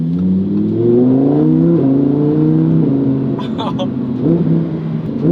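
A Lamborghini Huracán Performante engine blipping through a series of downshifts, with rising and falling revs in stepped bursts, loud and near from inside the car.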